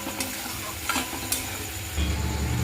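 Ground turmeric, chilli and coriander with chilli paste sizzle in hot oil in a frying pan as a spoon scrapes and stirs them, with a few sharp scraping strokes over a steady frying hiss.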